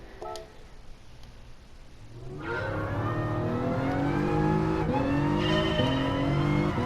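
A race car in Gran Turismo Sport revs hard and shifts up quickly through closely spaced gears, each upshift a brief dip before the engine note climbs again, loud and steady after a quieter start.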